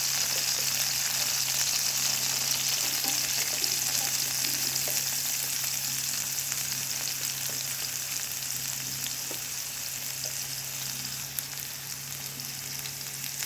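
Dried fish fries in hot oil in a pan with a constant, dense crackling sizzle that holds steady throughout, close and loud, with no voices.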